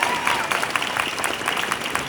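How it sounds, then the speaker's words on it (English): Crowd applause at a Mi'kmaq fishing solidarity rally in K'jipuktuk, dense steady clapping mixed with cheers and voices for about two seconds. "Can we get some applause for them?"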